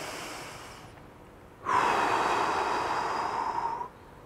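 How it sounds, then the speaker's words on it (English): A slow, deep breath drawn in and let out during a stretching routine, close to the mic, a soft gust followed by a longer, louder airy exhale lasting about two seconds. "One more big deep breath."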